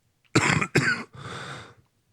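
Someone nearby coughs twice in quick succession, then lets out a longer raspy, throaty cough, all close and loud against silence.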